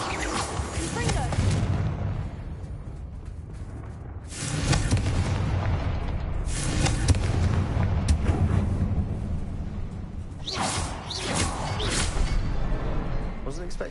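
Confringo fire spell blasts in Hogwarts Legacy, several loud booming fiery bursts in clusters with rumbling tails, close and heavy, separated by quieter stretches of game ambience and some speech.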